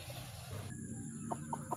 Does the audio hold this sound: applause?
no